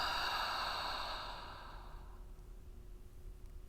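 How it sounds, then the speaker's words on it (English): A long, slow exhale during a guided breathing exercise starts as a strong, airy rush of breath and fades gradually into quiet room tone, close to the microphone, with no speech. "Breathing in first for ourselves, and exhale."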